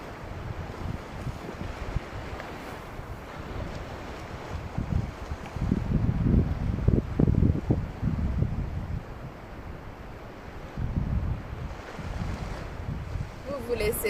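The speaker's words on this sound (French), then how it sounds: "Vous laissez bercer par le bruit des vagues, par la mélodie de la mer." Ocean waves wash in and out with a low rumbling surge, swelling in the middle and again near the end, with wind noise over the microphone.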